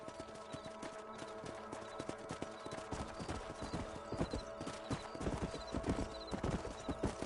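Horse hooves clip-clop steadily in Red Dead Redemption 2 on PS5, a rhythmic trotting beat with a brief whinny over a low game-world background.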